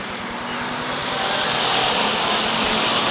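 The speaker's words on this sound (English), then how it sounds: "As Moody's on the throttle, we're back on the green" Race cars accelerate on the green at Waterford Speedbowl in 1991, a dense, loud, steady engine roar that swells slightly as the pack gets going, with no voices.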